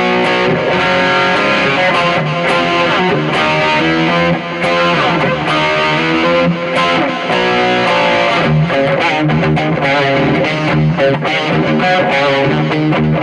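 Electric guitar with a distorted 1970s-style tone plays loud, continuous riffs and chords, dry before any BOSS reverb is added.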